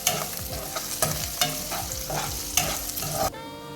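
Ginger pieces and tempering spices fry in oil for vermicelli kichidi, crackling and sizzling up close while a spoon stirs with steady scraping beats before the sound cuts off abruptly.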